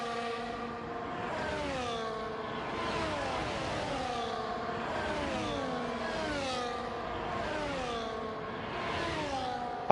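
Racing cars at a race start in the Re-Volt video game at Austria, engines whining and revving up in a repeating rising pattern of gear shifts, steady and moderately loud with no voices.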